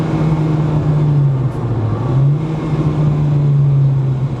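Honda Integra DC5 Type R engine pulling steadily in fifth gear around 5,000 RPM, a loud sustained drone with a slight dip and recovery in pitch midway, continuous road and wind noise beneath, no talking.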